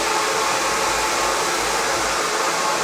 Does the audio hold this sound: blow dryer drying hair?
yes